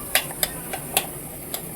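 Grated potato stirred into a pan for a potato filling, with a handful of sharp, irregular clinks of a utensil against the pan over a faint background hiss.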